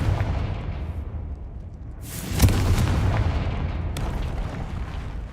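A Confringo fire spell from the Hogwarts Legacy video game explodes with a loud burst and booming rumble over constant game ambience, followed by a lighter impact crack a moment later.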